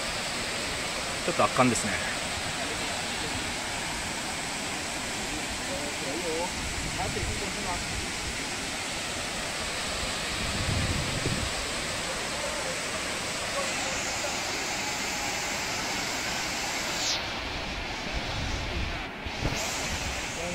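A large waterfall in Tak province, Thailand, roars as a dense, steady broadband rush heard close and continuous throughout, with a person speaking briefly over it.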